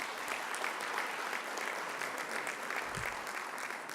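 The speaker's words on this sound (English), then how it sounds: "Let's give a round of applause for that project." Audience applause at a city State of the City event, a steady even patter of many hands clapping at moderate distance, continuing for several seconds with no speech.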